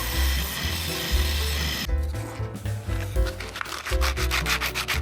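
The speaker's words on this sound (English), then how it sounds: "Back to hand sanding." Hand sanding a cedar fence plank piece for a Christmas sleigh, a steady scratchy rubbing that turns into quick back-and-forth strokes with rhythmic rasping, close and loud with no talk.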